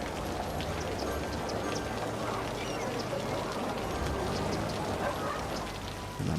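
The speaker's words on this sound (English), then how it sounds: "And that miserable rainy weather." Steady, dense rain patter hisses across the whole stretch in a Cities: Skylines PS4 city scene, a continuous wash of falling drops with faint scattered chirps and soft game sounds beneath.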